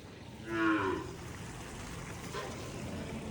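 A cow gives one clear, fairly close moo at a cow shelter (gaushala), followed by a fainter second low call over steady background noise.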